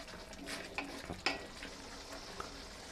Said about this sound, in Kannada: ಇದು 5 ನಿಮಿಷ ನಾವು ಚೆನ್ನಾಗಿ ಹೀಗೆ ಒಗ್ತಾ ಇರಬೇಕು